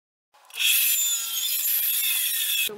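Wooden spacers for a torsion box table are sawn in one short, close, continuous rasping stroke that lasts about two seconds and cuts off sharply.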